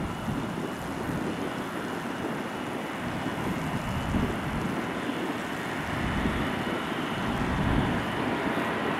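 A heavy jet airliner taking off at Miami International Airport gives a steady, loud broadband roar with rumbling low-end surges, heard alone without voices and buffeted by some wind noise.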